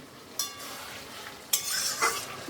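A vegetable curry made from watermelon rind is stirred in a pan, with two close, scraping bursts of spoon against metal over a low sizzle. There is no talking.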